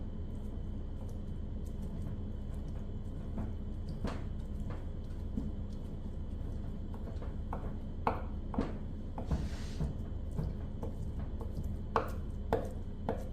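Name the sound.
chopping kimchi for dumpling filling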